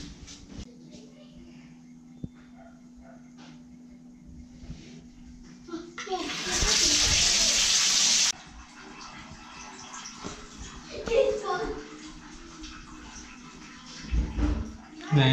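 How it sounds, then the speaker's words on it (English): Water gushes from a main tap for about two seconds as it is flushed out during a worn tap seat repair, a loud steady rush with quieter handling noises and speech before and after. "turn on the main tap to quickly flush it out first"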